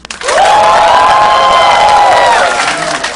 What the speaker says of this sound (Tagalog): palakpak nga!